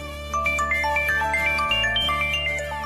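A phone ringtone plays a repeating electronic melody of bright chiming notes, loud and close, with no one speaking.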